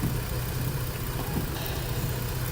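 An Acura MDX engine idles steadily with its high beams and blower running during an alternator test, a continuous low rumble with a constant hum and no voices.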